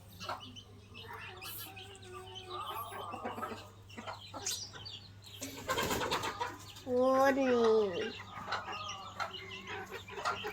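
Chicks and chickens cluck and chatter close by while being fed, with a louder squawking burst in the middle, over a steady low hum and some background voices.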